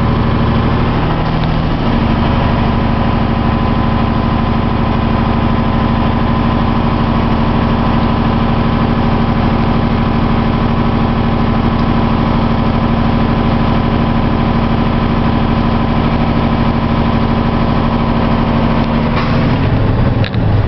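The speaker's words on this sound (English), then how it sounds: "I'm gonna help it out by revving up the RPMs." A heavy truck engine runs loud and steady at raised revs, a constant deep rumble with vibration, shifting slightly near the end.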